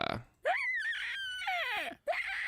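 A voice actor mimics a screaming pig for a sound effect, producing three shrill, wavering squeals that rise and fall in pitch, close-miked and loud, with brief gaps between them.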